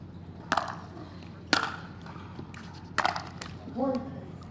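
A pickleball paddle strikes the ball four times in a world championship match, sharp hollow pops spaced about a second apart, with faint crowd and court noise underneath and a brief squeak near the end.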